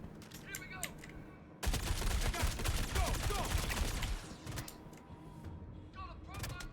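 Rapid automatic gunfire bursts from a firefight against NPCs in the Star Citizen video game, loud and dense for a few seconds, then sporadic shots and mechanical clicks, with someone talking at times.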